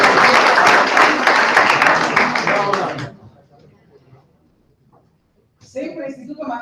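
Audience applause for a student prize winner at an awards ceremony, a dense burst of clapping that fills the room for about three seconds, then stops abruptly, followed by near silence before a voice resumes speaking.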